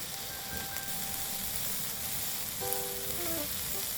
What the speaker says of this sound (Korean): 프라이팬에 애호박과 양파 넣어 참기름 두 수저 둘러 볶아주다